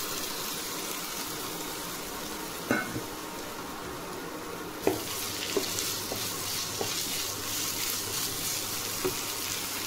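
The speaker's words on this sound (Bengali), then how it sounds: "পেঁয়াজটা ভাজা ভাজা হয়ে গেছে, এই জন্য এখন আদা বাটা আর রসুন বাটাটা দিয়ে দিচ্ছি" Ginger and garlic paste frying with chopped onions in a pan, a steady broadband sizzle with a few sharp clinks of stirring and a brief louder spatter midway.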